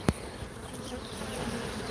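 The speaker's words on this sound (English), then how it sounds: "These guys are the remnant bees. They're not even the bees coming out to attack." Aggressive Africanized killer bees buzzing in a dense, continuous swarm drone close by, with a brief sharp knock at the start and no voices.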